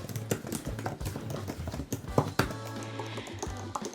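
Fingers type on an Apple Magic Keyboard for iPad Pro, giving a quiet, close series of irregular soft key clicks and taps with a few sharper strikes.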